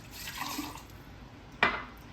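Water is poured into a mason jar for homemade disinfecting wipe solution, a short close splash and trickle followed by a sharp clink or drip near the end.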